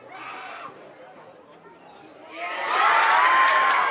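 A junior football crowd at an Under 15 Division 2 grand final between Wentworthville United and Greystanes Devils swells from scattered chatter into loud, sustained cheering and shouting for the last second and a half.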